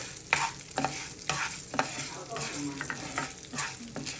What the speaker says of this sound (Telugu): శనగపప్పు వేయించుకున్నాక 1 కప్పు మినపప్పు వేయించుకోవాలి.